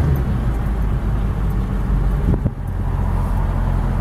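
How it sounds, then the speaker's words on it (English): Steady road traffic from many cars pulling out around a Ford Powerstroke diesel truck, a continuous low engine rumble with a brief thump midway, close and fairly loud throughout. "And of course there's like 100 cars pulling out of here."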